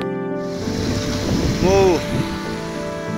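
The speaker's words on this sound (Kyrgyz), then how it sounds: "Актерскенден түшкөн суу аябай чоң түшүп" Heavy water rushes through a canal in Jumgal, a continuous close roar with a louder surge in the middle, under a person speaking.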